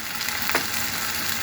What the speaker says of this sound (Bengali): আমি পেঁয়াজগুলোকে একটু ভেজে নিচ্ছি